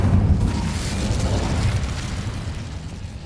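The Incendio fire spell in Hogwarts Legacy makes a steady, loud, rumbling roar of flame with low booming texture throughout.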